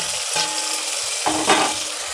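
Onion, ginger-garlic paste and tomato fry in a pan, giving a steady soft sizzle with a few brief stirring scrapes and clinks, close and moderately quiet.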